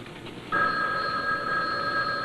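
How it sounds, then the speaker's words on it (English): A telephone rings loudly and steadily. Its bright electronic tone starts about half a second in and holds continuously to the end over a quiet background. "Your phone's ringing."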